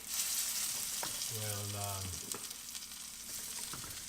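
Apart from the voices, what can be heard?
sirloin beef frying in a pan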